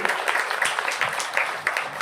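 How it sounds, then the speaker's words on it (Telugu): Congregation clapping together at a Sunday church service, a dense, steady patter of many hands held at an even level for about two seconds. "సంఘమంతా ఒకసారి చప్పట్లు కొట్టి వారిని అభినందిద్దాం."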